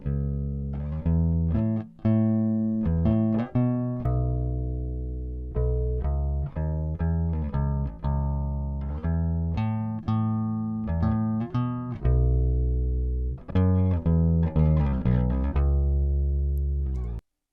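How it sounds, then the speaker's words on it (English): A clean bass guitar recorded through a DI plays a steady, deep riff of plucked notes, dry and unprocessed, with no other instruments or voices. "It's absolutely clean, flat, low end from just the bass."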